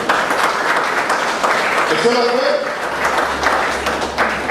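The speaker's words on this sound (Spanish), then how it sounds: "Dale un aplauso al Señor para esta mañana." Congregation applause in a charismatic church service, a steady wash of clapping throughout with a voice speaking over it.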